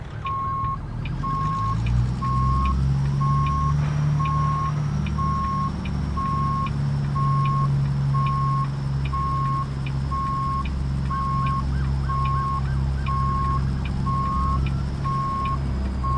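A truck's backup beeper in American Truck Simulator sounds a long run of evenly spaced, high electronic beeps over a low, steady diesel engine rumble, clear and close throughout.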